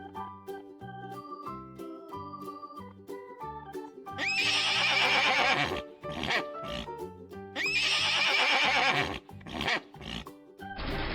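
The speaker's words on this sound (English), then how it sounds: "Horse," A toy-collection horse gives two loud, shrill whinnies, each lasting over a second, over a playful music bed with clip-clop beats.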